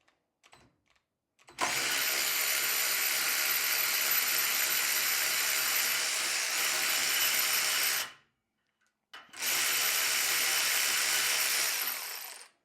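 A Bauer 20V cordless 3/8 or 1/2 inch ratchet runs in two long bursts, a steady loud whirring motor drone for about six seconds, a brief pause, then a second run of about three seconds.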